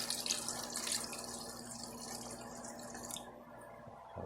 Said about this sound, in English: So we get some water in there.